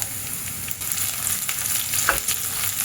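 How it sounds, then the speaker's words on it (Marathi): Finely chopped garlic and dried red chillies frying in very hot oil for a dal tadka, a loud, continuous close sizzle with faint stirring clicks and no voices. "खूप गरम झाल्यावर आपल्याला घालायचं आहे आठ ते दहा लसूण एकदम बारीक चिरून घेतले याचाच तडका खूप महत्त्वाचा असतो"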